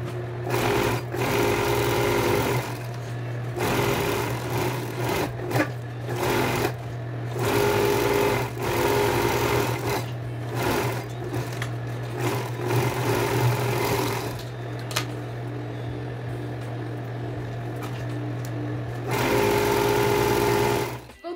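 Straight-stitch sewing machine stitching children's shorts, running in close, loud bursts of rapid whirring that start and stop repeatedly, with a low steady hum between runs and a quieter stretch near the end.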